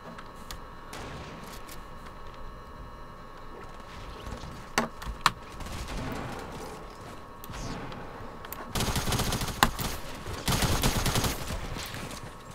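Pump shotgun fire in a first-person video game, scattered gunshots from near and mid distance with a louder burst of rapid shots toward the end, over a busy game background.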